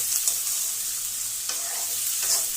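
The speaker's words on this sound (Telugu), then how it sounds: "బాగా ఫ్రై చేసుకోవాలి లివర్ని" Chicken liver pieces frying in a pan for a curry, a steady close hiss of hot oil sizzling throughout, with a few soft stirring scrapes and no voices.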